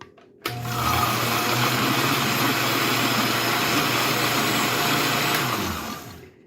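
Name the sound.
blender whizzing cashew cream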